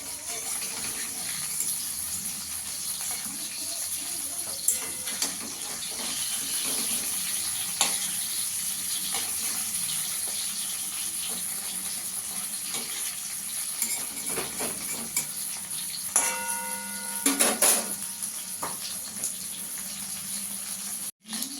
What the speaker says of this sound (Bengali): মাছটাকে একটু লাল লাল করে ভেজে নেব।